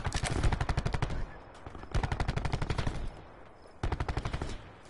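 Three long bursts of rapid automatic gunfire in a video game, loud and close, each a fast even rattle separated by short pauses.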